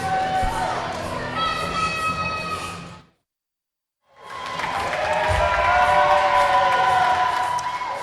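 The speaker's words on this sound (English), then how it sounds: "Dallas and Diesel are having the crowd give a cheer for Muggsy" A wrestling crowd at a Backbreaker Wrestling event cheers and applauds loudly, breaks off into a second of silence, then swells back into sustained shouting and clapping.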